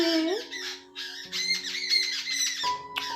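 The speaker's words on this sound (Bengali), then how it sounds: "পাখি ডাকছে" Birds call outdoors in short squawking and chirping bursts, several loud cries close by with brief gaps between them, no talking.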